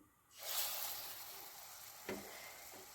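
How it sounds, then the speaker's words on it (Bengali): Lentil fritters (bora) frying in hot oil, a soft steady sizzle that rises suddenly and keeps hissing, with a brief clatter partway through. "এইভাবে আমি সমস্ত বড়াগুলো ভেজে নেব।"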